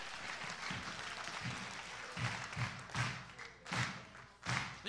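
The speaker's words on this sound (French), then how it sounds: "applaudis les sœurs" Congregation clapping hands for the sisters during lively worship in a church service, a steady crowd applause with rhythmic thumping beats running through it, fairly distant and moderate in level.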